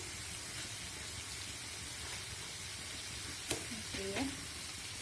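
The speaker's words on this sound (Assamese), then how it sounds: "পটলখিনিৰ লগত মছলাখিনি ভালদৰে ভাজি ল'ম।" Steady sizzling of pointed gourd frying with spices in hot oil, a constant crackling hiss with a couple of brief clinks near the end.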